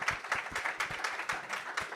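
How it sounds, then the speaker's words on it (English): A hackathon audience applauding the organizing team, with rhythmic, fairly sparse clapping from a modest crowd, close and continuous across the whole stretch. "really big applause to the team to really get this together"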